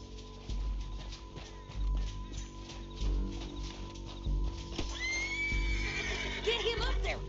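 A horse in the Western video game Red Dead Redemption whinnies near the end, a rising, shaky neigh over steady game ambience, clopping hooves and a low background drone, with voices speaking through it.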